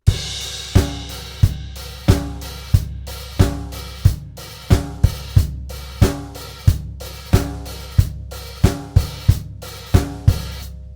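Drum kit plays a chorus groove: a steady, close, loud pattern of bass drum, snare backbeats and cymbal strikes repeating evenly, played alone without talk.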